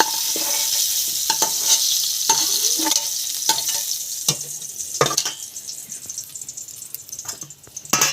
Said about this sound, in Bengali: কপিগুলো একটু ভাজা হয়ে গেছে